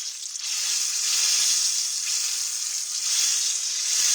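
Water poured into peach pie filling in a pan gives a steady, hissing, sizzling splash that runs continuously, close and fairly loud with no talk over it.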